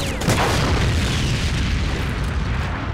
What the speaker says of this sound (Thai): ไอ้แบงค์เกมนี้แม่งแจ่มนะเว้ยเวลามีคนตายมันปาระเบิดไปตรงกลางดงแม่งศพกระเด็นหนึ่งสูง